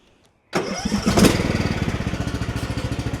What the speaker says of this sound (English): so I'll go ahead and fire it up.